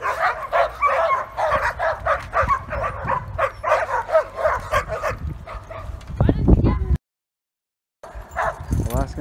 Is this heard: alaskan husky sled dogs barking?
yes